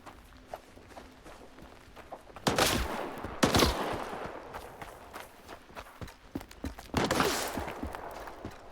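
Gunfire erupts in a STALKER 2 firefight: sharp bursts of shots come in clusters, loudest near the start and again toward the end, mixed with lighter scuffing steps and rattles, and no talking.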